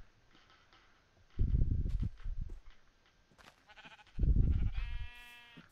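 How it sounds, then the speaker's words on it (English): Sheep bleating in the Minecraft video game, two loud bursts of blocky game bleats a few seconds apart, followed by a short tonal chime, with no talking. "Here are a lot of sheep."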